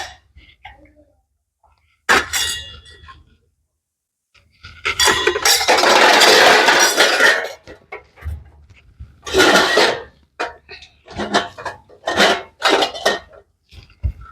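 Dishes, pots and utensils clank and clink in bursts while being scrubbed clean in a home kitchen, loud and close, with pauses between clusters of clatter and a few coughs.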